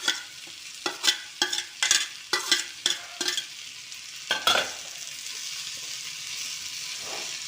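Tomato and coconut are sautéed in a pan for thavala adai, with a series of sharp spatula scrapes and stirs over a soft frying sizzle that settles into a quieter sizzle at the end.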